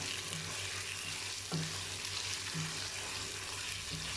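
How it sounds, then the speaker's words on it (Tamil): Spinach and mutton sauté in a pan for palak gosht, a steady close sizzle with soft stirring scrapes, over a constant low hum. "ஒரு 5 மினிட்ஸ் நல்லா வணக்கிக்கலாம்."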